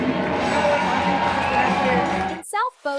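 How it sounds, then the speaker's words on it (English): Arena crowd at a kickoff event cheering and applauding an elementary school, a dense roar of clapping and cheers that drops off sharply near the end as a voice begins speaking. "One more round of applause for Sun City Elementary."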